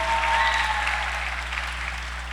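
Steady audience applause fills a church youth camp gathering, a dense continuous wash of clapping heard for a couple of seconds over a low hum.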